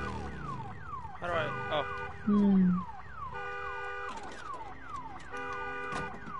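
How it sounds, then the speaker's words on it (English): A repeating sweeping alarm in the video game Days Gone wails in steady cycles, loud and close, while a voice speaks briefly over it and a short low tone cuts in partway through. "Turn off the alarm."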